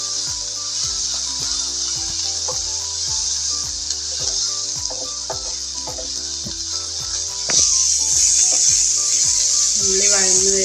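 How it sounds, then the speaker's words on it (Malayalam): Onions sautéing in a pan give a steady, close sizzle that runs the whole time, with intermittent scraping stirs and a brief rise in intensity toward the end. "ഉള്ളി വഴന്ന് വരുന്നുണ്ട് കേട്ടോ."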